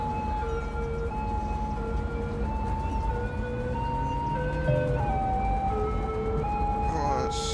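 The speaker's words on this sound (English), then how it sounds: "Sirens. All I hear is bloody sirens." Several emergency vehicle sirens wail together in the city-building game Cities: Skylines, their overlapping tones steadily rising and falling, loud and continuous over a low traffic rumble, with someone talking over them.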